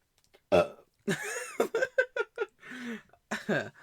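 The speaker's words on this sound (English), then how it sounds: "Wait, I'm about to burp." A close, low burp followed by a few short vocal bursts and chuckles, fairly quiet overall.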